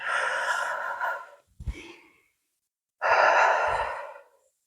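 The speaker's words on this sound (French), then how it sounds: "Inspire par le nez. Expire par la bouche." Slow deep breaths during a yoga-barre class: a long airy exhale, a short sniffing inhale through the nose, then another long breathy exhale through the mouth, close and fairly loud with no talking.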